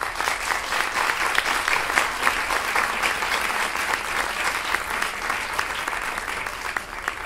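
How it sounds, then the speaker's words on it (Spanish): A theatre audience at a presentation of a stage adaptation of Blasco Ibáñez's work gives sustained, dense applause, loud and steady for about seven seconds, with a faint murmur of voices underneath. "pediría un aplauso"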